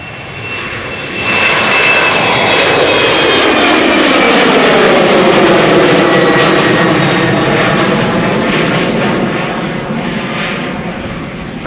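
A BA CityFlyer Embraer 190 departs Amsterdam Schiphol for Manchester. The jet roar swells loud and close, with a shifting sweep as it passes, then fades slowly away.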